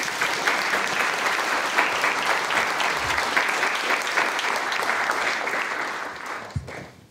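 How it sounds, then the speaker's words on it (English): A room of listeners at a Chicago tech talk on real-time planning clap after the presentation, a thick, sustained round of applause that holds steady and then tapers off near the end, with a faint voice briefly audible. "round of applause"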